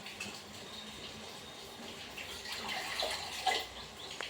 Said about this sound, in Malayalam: എത്രത്തോളം വെള്ളം നമുക്ക് വേണമെങ്കിൽ അത്രത്തോളം വെള്ളം നമുക്ക് അതിലേക്ക് ഒഴിച്ചു കൊടുക്കാം